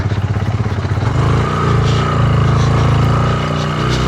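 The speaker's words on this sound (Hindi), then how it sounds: "हमारी बाइक 125 सीसी है," A 125cc motorcycle engine runs loudly up close on an off-road mountain ride, a steady throbbing rumble that rises slightly as the rider pulls away.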